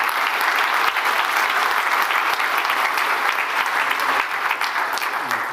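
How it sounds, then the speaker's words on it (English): An audience at an award event gives a welcoming round of clapping as a couple is invited onto the stage, loud and sustained, easing slightly toward the end. "Give them a welcoming clap."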